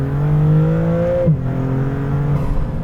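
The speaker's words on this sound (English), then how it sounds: "has just the craziest exhaust note" A 2024 Maserati MC20 Cielo's twin-turbo V6 revs up loudly close by, its rising exhaust note cutting off abruptly, then settling into a rumbling idle with turbo whoosh.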